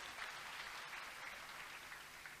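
A church congregation claps in response to a preacher's urging, a continuous, fairly faint patter of applause heard at a distance with no talking over it.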